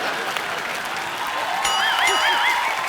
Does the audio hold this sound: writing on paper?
no